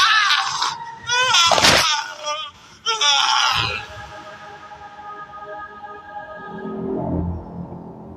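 A man lets out loud, strained screams in a dramatic horror story scene. The shrill bursts fill the first few seconds, then give way to lower, fading moans and a murky background.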